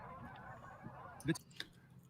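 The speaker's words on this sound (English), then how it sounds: "now those ducks are in the video, just in case anybody's wondering" Ducks heard in the background, a couple of brief honking calls rising over a murky, continuous low rumble, fairly faint and distant.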